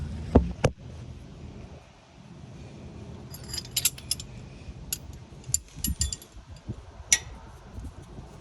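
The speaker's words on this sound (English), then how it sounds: "we're just gonna get the wrench and socket and start tightening." Wrench and socket tightening a bolt on a steering stabilizer for a 2011-2015 Chevy 2500, heard as scattered metallic clicks and clanks with a couple of sharper knocks early on, close by and with no talk.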